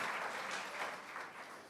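A church congregation applauds, a steady wash of clapping that sounds fairly distant and soft, fading slightly toward the end, with no voices over it.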